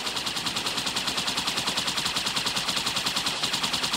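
Rapid turret fire in Halo 2 Anniversary, heard as a steady stream of evenly spaced shots that hammers on without a break for the whole stretch, fairly close and alone with no voices.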